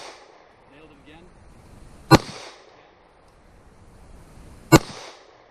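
Gunshots at an outdoor shooting range: two sharp, loud cracks roughly two and a half seconds apart, each ringing out briefly over a low background murmur with faint voices.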